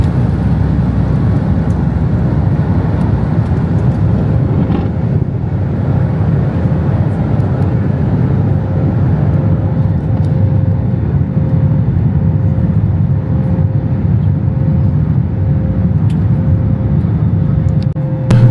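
Southwest Airlines jet on its takeoff climb out of St. Louis, Missouri, a loud steady low roar of engines and airflow heard from inside the cabin, continuous and unbroken.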